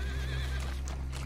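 A horse in Red Dead Online lets out a loud, close whinny with a wavering high call, followed by hoof clip-clops and a low steady rumble underneath, all within about a second.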